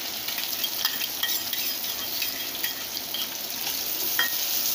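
Mustard seeds and finely chopped onion fry in hot oil, a steady bright sizzle with scattered crackles and pops and occasional stirring, with no talking.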